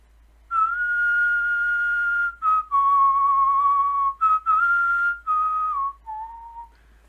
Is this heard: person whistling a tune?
yes